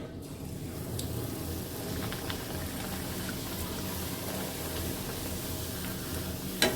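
Poori dough frying and puffing up in hot oil, giving a steady close sizzle and bubbling that runs throughout without talk, with a brief sharper crackle at the end.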